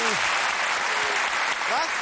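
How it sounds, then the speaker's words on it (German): A TV talk-show studio audience claps loudly and steadily at the end of a show. Cheering voices and a few calls rise over the dense applause. "Kleinen Applaus für Daniel Krause"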